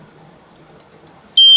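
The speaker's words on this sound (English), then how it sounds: "Buzzer is indicating." A generator protection panel buzzer sounds for a reverse power flow fault. It starts abruptly after a quiet, low hum and then holds a loud, steady electronic tone.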